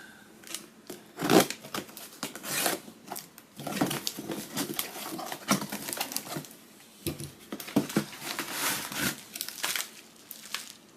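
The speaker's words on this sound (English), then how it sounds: "Let's go ahead and cut the tape." Packing tape on a cardboard shipping box holding an Eddystone P14 .303 British rifle is cut open, with close bursts of tearing, crinkling and rustling that come in uneven bunches separated by brief quieter gaps.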